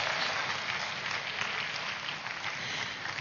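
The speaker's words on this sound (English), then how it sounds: "Give a big clap to him." An audience at a live AYF event applauds a person who has just danced, a steady wash of clapping that holds at moderate loudness throughout.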